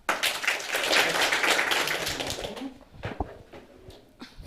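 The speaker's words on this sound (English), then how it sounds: "Let's clap for her." Audience clapping for a woman at a motivational talk event, a dense patter of hands that fades after a few seconds into scattered claps and quiet room noise.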